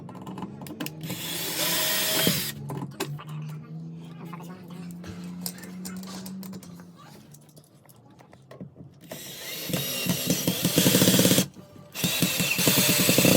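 A power drill driving screws while building a wall-mounted clothing rack whirs in bursts with ratcheting mechanical clicks and a rising whine near the end, close by, with occasional speech mixed in.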